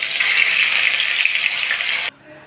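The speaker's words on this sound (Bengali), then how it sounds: "মাছগুলোকে আমি লাল লাল করে ভেজে নেব।" Fish slide into hot oil in a wok and sizzle loudly in a constant hiss for about two seconds, then the sound stops abruptly.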